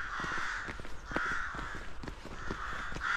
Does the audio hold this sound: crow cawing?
yes